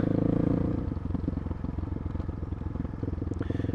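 A Suzuki DR350 motorcycle with a big bore 400 kit runs with a rapid, pulsing single-cylinder thump during a test ride, steady and fairly close, easing slightly in the middle before picking up again.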